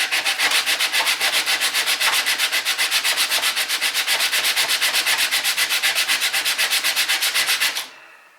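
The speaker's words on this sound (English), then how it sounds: "you just rub it backwards and forwards with plenty of pressure, evenly distributed across the back of the blade." The flat back of a chisel blade is rubbed back and forth on coarse sandpaper under firm pressure, making a steady, loud, rhythmic rasping of about eight strokes per second that continues for nearly eight seconds before stopping abruptly.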